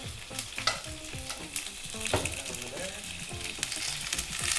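Orange chicken pieces fry in a pan with a continuous close sizzle and crackle, occasional scraping and clinks from stirring, no voices.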